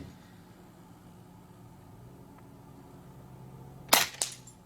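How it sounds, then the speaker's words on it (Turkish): A Kral Puncher Armour .22 PCP bullpup air rifle fires one sharp, loud shot after several seconds of quiet background, followed by a brief echo or impact crack. "Son atış bir şarjörde."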